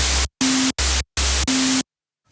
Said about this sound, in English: We need to put some white noise in there.